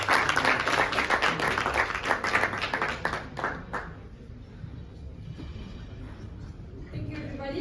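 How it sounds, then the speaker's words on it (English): An audience applauds Team AMANAR from Morocco, moderately loud and steady at first, then thinning out and fading after about four seconds, leaving faint room noise with a voice in the background. "round of applause for our next seal from Morocco"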